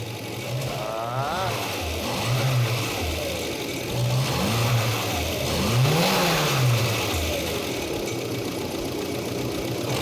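Engine running on gas made from tires is revved repeatedly, with several rising and falling bursts over a rough idle, close by and uneven.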